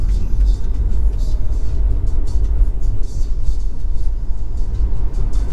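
A Tesla Model 3 Performance pulls away, heard from inside as a steady low road rumble and faint whine that stays even and loud throughout, with no talking.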